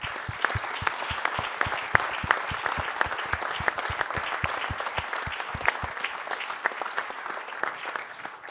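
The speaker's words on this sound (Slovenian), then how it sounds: "Vsem pa se seveda lahko zahvalimo z aplavzom." Audience applause in a hall at a Slovenian film premiere, a steady patter of many hands with a few sharp, louder claps standing out rhythmically, sustained and moderately distant.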